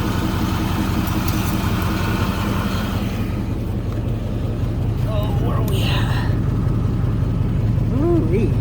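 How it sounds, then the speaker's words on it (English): A Chevy OBS truck bought from a tow yard auction idles with a steady low rumble throughout, loud and close, while faint chirps and other small sounds surface briefly over it. "Sitting here idling for a little bit."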